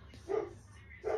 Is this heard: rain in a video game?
no